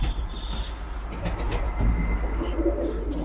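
Arab pigeons in a loft with chicks, cooing softly and continuously close by over a low steady background hum, with a few brief rustles and no talking.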